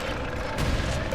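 A grenade goes off in the Space Marine video game, a single muffled, moderately loud boom that cuts through a steady wash of background game noise.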